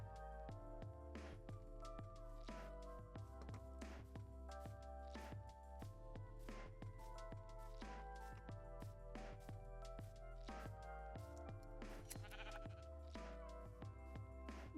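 A sheep in Minecraft bleats repeatedly in a hardcore game world; the faint, wavering bleats recur at short intervals over steady tonal game music, with no one talking.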